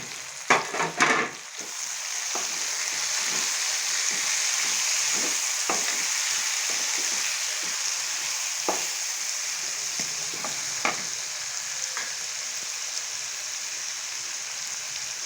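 Tomatoes frying in a garlic and garam masala paste for a Pakistani chicken salan, a steady close sizzle with a burst of clattering stirs at the start and scattered spoon scrapes afterward.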